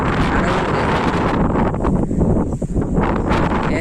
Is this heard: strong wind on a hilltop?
yes